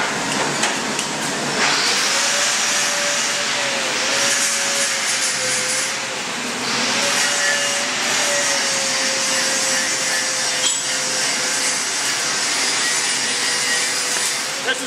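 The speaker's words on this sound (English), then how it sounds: "That's 3/8 plate that he's welding using 1/8 inch 7018." Stick welding vertical-up fillet welds on 3/8 inch plate with 1/8 inch 7018 rod in a college welding shop, a loud, steady crackling hiss that runs continuously with a few small shifts in tone.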